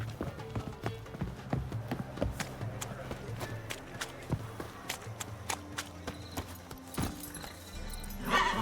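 Roach, a horse in The Witcher 3, clip-clops at a steady gallop with rhythmic hoofbeats and a neigh, while a voice speaks over the hooves.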